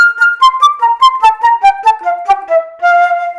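A flute plays a quick run of short, detached staccato notes stepping gradually downward, clear and close with no voices.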